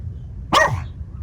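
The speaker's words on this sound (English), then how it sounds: "excuse the dogs" A single sharp dog bark close by in a home with three dogs, one short loud yelp against quiet background.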